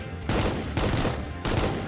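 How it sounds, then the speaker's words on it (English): Gunfire in the Supplice video game, three loud, dense bursts of rapid shots in close succession separated by short gaps, with no talk over them. "Who else is shooting at me?"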